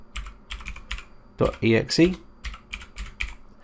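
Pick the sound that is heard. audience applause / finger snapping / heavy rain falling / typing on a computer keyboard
typing on a computer keyboard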